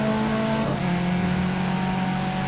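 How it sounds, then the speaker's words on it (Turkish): A car engine drones steadily in the Unturned video game as it drifts. The tone dips briefly partway through, then the engine settles back into a constant, close hum with no voices. "Bir şurada drift at bakayım."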